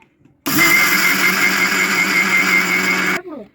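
An electric grinder whirs loudly and steadily for about three seconds as it grinds cake ingredients to powder, starting abruptly and winding down at the end.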